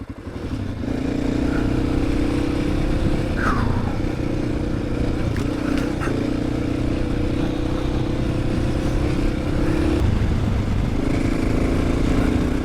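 Dirt motorcycles, a Honda XR600R and a Yamaha XT600 Ténéré on a night desert rally stage in Tunisia, drone loudly and steadily up close, engine pitch shifting slightly as they ride with other bikes nearby.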